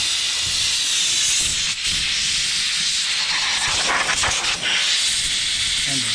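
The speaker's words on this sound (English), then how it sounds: "I have my air compressor. I just want to blow it in between." An air compressor nozzle blasts a loud, continuous hiss of air around the spark plugs of a 2019 Harley-Davidson Softail Slim. It holds for about six seconds with only brief dips in the stream.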